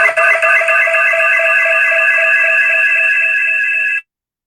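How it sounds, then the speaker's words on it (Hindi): A mobile phone rings with an incoming call, a loud steady electronic tone that holds for about four seconds and then cuts off abruptly, with no talk over it. "वो मोबाइल पे कॉल्स आ रही थी, बार बार डिस्कनेक्ट हो रहा था"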